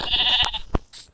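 Sheep in a Minecraft-like video game give a short, close bleat followed by a couple of brief clicks, heard on their own with no talking.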